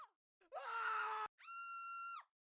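Panic scream sound effects, a few separate takes: a short cry, a ragged harsh scream, then a cleaner high sustained shriek, each loud and isolated with silence between.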